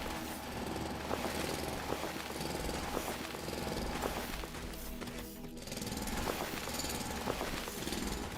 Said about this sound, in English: Drill out a little hole in it.